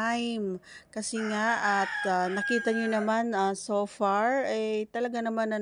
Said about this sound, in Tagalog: ang maririnig mo lang ngayon ay mga tilaok ng mga manok